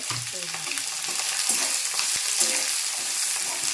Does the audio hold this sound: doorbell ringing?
no